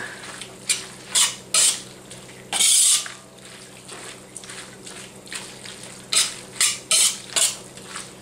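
Sauce being stirred in a hot pan for fish-fragrant stir-fried tofu, with sharp, intermittent scrapes and clinks of a utensil against the pan in bursts, close and fairly loud over a low, steady background.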